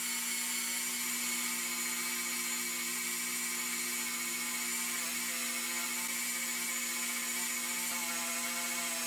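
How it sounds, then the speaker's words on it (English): Wool buffing of Trans-Am paint with Flitz polish gives a steady, loud, unbroken motor-like whine with a constant pitch, heard alone for the whole stretch. "I'm going to do one more good polish, but this time I'm going to use wool instead of that cloth."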